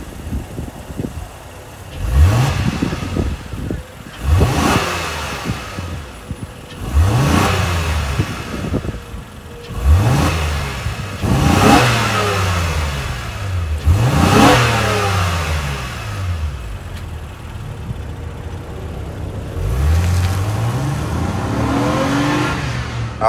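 The revised 3.5-liter V6 in a 2023 Honda Pilot Touring revs repeatedly, with about eight rising blips each falling back to idle, loud and close with no talking.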